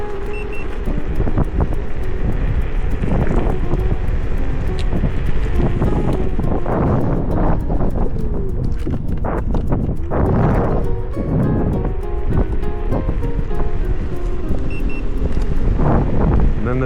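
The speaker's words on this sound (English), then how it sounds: "It's quite windy. I got a lot of headwind now." Steady, loud wind roars into the microphone while riding an iScooter iX4 compact electric scooter against a strong headwind, a continuous rushing buffet that lasts throughout.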